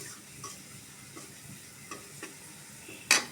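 Onions frying with turmeric, a soft low sizzle in the pan broken by a few light scrapes and taps of a spoon, ending in one sharp clink near the close.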